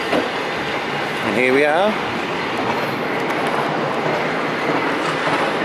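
A tram runs on its rails with a steady, loud rumble and clatter throughout, a brief squeal of wheels near the start, and a voice speaking over it.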